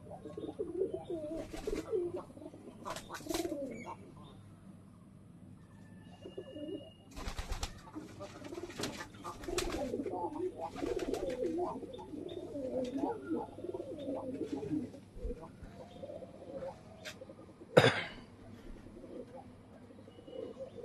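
Pigeons in a rooftop loft coo on and off over a long stretch, with light chirps, a few sharp knocks, and a brief loud clatter near the end, while a voice speaks faintly in the background.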